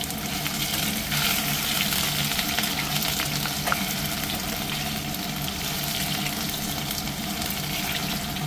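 Potatoes with bay leaf and cumin frying in hot oil in a pan, a steady close sizzle that continues evenly throughout with no talk.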